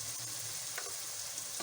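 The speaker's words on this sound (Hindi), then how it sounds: "ये ज़्यादा नहीं भूनना, थोड़ा सा भूनना।" Spices roasting briefly in a hot pan for baingan bharta give a soft, steady sizzle and crackle, with a couple of faint stirring scrapes through a quiet, continuous fry.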